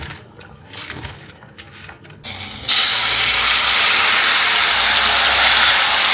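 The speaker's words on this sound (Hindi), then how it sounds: "भाई अभी आलू हो रहे हैं डीप फ्राई।" Potatoes dropped into hot oil for deep frying burst into a loud, steady hiss and crackle that fills the rest of the clip, after a quieter start of kitchen clatter.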